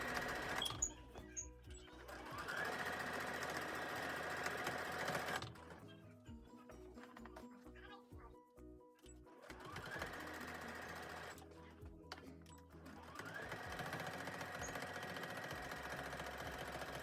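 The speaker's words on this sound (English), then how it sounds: "And now we're ready to bring it to our sewing machine." Sewing machine stitching squares of a beginner's baby quilt, running in rapid bursts of close mechanical chatter that stop and restart, with short quieter gaps of rhythmic needle ticks between runs.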